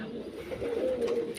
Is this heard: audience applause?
no